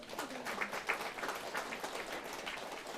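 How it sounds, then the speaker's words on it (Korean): Faint, distant applause from a church congregation at a charismatic prayer meeting, a soft steady patter of many hands lasting a few seconds without any clear voice over it. "여러분 박수 한번 쳐야 되겠죠?"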